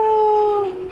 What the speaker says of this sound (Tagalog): Cute ng aso.